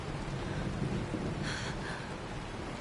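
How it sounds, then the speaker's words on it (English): Steady rain hisses throughout with a low rumble of thunder underneath in the video game Honkai: Star Rail, moderately loud and continuous, with no voices. "It's raining."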